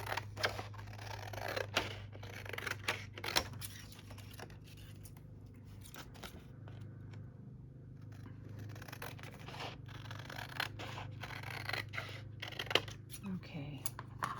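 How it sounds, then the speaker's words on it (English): Paper pages being cut with scissors during a junk-mail craft project, heard as quiet intermittent snips and rustles against a low steady hum, with no voice in between. "I have cut so many pages down"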